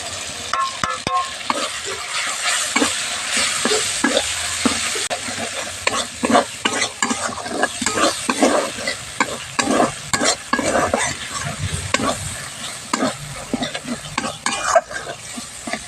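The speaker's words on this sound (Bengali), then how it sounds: "মশলাটা দিয়ে খুব ভালো করে কষে নিচ্ছি" Ground spice masala for a potato and eggplant curry, cooked with ginger, garlic and softened tomato, is stir-fried in a pan, giving a steady loud sizzle with rapid, repeated scraping and clattering strokes of a spoon.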